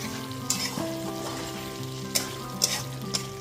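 Mutton sizzling and being stirred in a pan over a medium gas flame, a constant frying hiss with a few sharp scraping strokes of a spatula against the pan.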